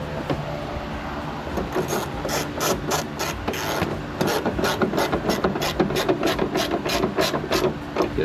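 A ratchet wrench tightens bolts on a Ford Mustang S650, giving a close, rapid run of clicking strokes in steady bursts with no speech.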